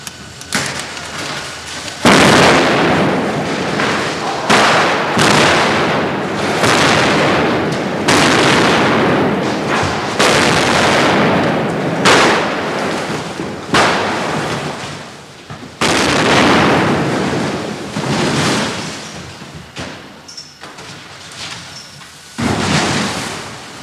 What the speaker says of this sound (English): There's an air of military tension as the special effects team plot the explosion.